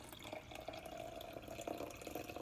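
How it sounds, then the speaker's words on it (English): Warm elderberry syrup decoction is poured into a jar, a faint, continuous trickle and splash of liquid heard close up. "So I'm just going to take this decoction, kind of swirl it around a little bit, and then pour"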